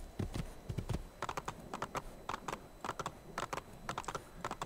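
Horse hoofbeats from riding in Assassin's Creed 2, a run of quick, fairly close clopping impacts in an irregular rhythm, with no talk over them.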